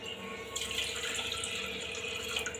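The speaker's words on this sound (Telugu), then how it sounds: "ఇప్పుడైతే వన్ గ్లాస్ వాటర్ పప్పులో పోసుకుంటాం" A glass of water pours into lentils for spinach dal, a steady close splashing trickle of liquid lasting a couple of seconds.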